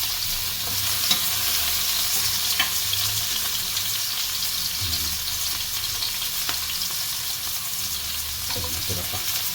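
Onions and ginger frying in a pan for a beef tongue dish, a constant loud close hiss of sizzling with occasional stirring clicks, no speech.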